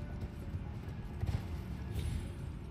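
Horse hoofbeats galloping in the video game Elden Ring, a steady rapid clip-clop close up and fairly loud, running without pause under a dense low rumble.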